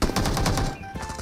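Rapid automatic gunfire from a PUBG-style battle royale shooter, a dense rattling burst of shots that runs continuously, then drops into quieter scattered shots near the end.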